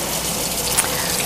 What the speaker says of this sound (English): now I'm just going to add hot water